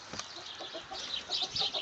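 Chickens, including Wyandotte hens, cluck softly inside a farm chicken house, with several short, overlapping clucks at a moderate distance, faint and continuous.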